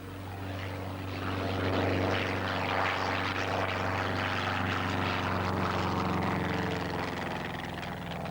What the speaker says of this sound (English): first off the line is Alf Hawley in his Rally 100